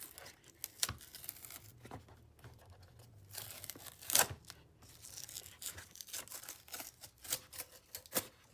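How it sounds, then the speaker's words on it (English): Cloth pull tab being peeled off a wax-coated box of Czech 26.5mm flares, heard as quiet close-up tearing and crinkling bursts in an irregular series, with louder rips scattered among softer rustles. "You're just going to peel that up, unwrap it around the box,"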